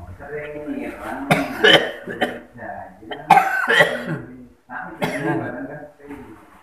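A person talks and breaks into several harsh coughs, scattered in bursts between stretches of speech.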